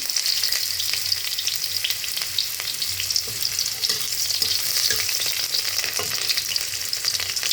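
Onions sizzling steadily in hot oil with cinnamon and cracked cardamom, a dense continuous fry with occasional spatula scrapes, close and fairly loud, with no talking.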